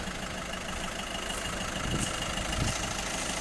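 A VW Touran 1.6 TDI diesel engine idles steadily and quietly after DPF and EGR cleaning, with an even low rumble and some background hiss, no voices.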